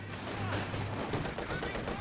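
Machine gun fire in the Company of Heroes 2 World War II strategy game, a dense rapid burst of shots mixed with other battle noise, fairly faint and continuous throughout.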